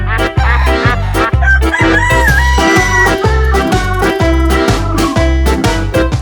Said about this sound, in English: And look at Super Rooster